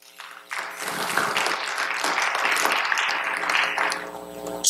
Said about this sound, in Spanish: Dele palmas a Cristo, pues